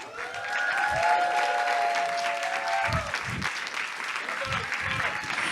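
Sustained applause from an audience at an elevator pitch contest medal ceremony fills the clip, steady and fairly loud, while a voice talks over the clapping.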